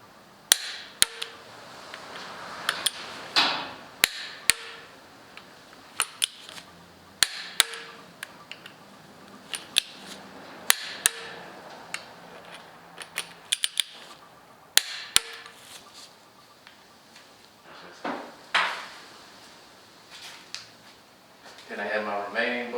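A torque wrench preset to 16 foot-pounds tightens the bolts of an ATI Super Damper on a 2JZ engine swapped into a BMW. Sharp metallic clicks and taps come at irregular intervals, fairly close, with brief pauses between bursts.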